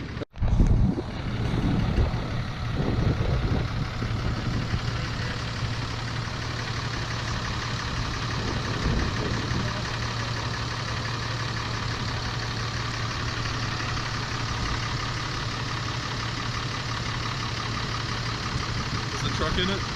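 A 2011 Cummins diesel truck engine idles with a steady low rumble throughout, while people talk nearby.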